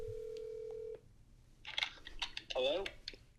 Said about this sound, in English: I'm about to call Joe back right now, and I'm going to let you listen into this phone call.